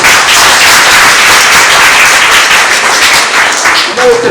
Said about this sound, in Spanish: fuertes los aplausos para todos